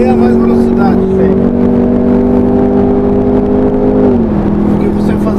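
Jaguar F-Type P300 with a 2.0 turbo engine on the Interlagos circuit, holding a loud, steady engine drone that rises slightly before dropping in pitch near the end as it eases off, with voices talking over it.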